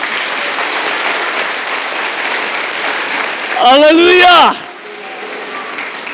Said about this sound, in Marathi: पण जास्त टाळ्या पेत्र आणि योहानासाठी वाजवा.